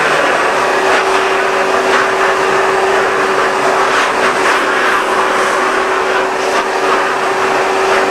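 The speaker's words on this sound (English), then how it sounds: "do what we call a dry decon and vacuum off your suit and get your suit nice and clean" A vacuum cleaner whines loud and close without a break as dust is cleaned off a protective suit in an interior lead paint work area, with no talk.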